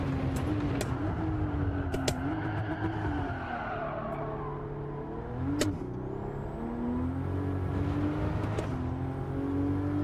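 A race car in Gran Turismo 7 tackles tricky consecutive corners, its engine revving up and down steadily with rising and falling pitch as it accelerates between shifts, close and continuous, with brief clicks and faint tire noise.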